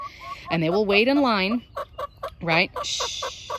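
A hen clucks loudly and repeatedly after laying an egg, in drawn-out rising cackles and short clipped clucks, close by, with someone speaking briefly between the calls.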